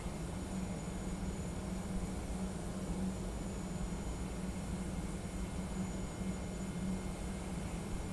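The engines of a simulated Boeing 717 produce a steady, even drone with a low hum at moderate level, holding without change throughout.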